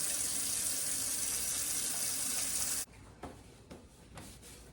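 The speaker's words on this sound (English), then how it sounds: "I'm gonna wash my hands real quick." Water runs steadily from a kitchen tap for hands being washed, a loud continuous hiss that cuts off abruptly partway through, leaving quieter handling sounds.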